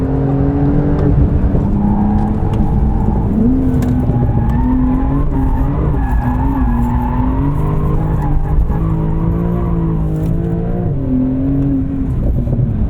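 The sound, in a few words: Porsche 911 Turbo S drifting with tire squeal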